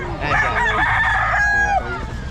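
Rooster at a pet market crowing once, a loud close drawn-out crow of about one and a half seconds with a falling end, over busy crowd chatter.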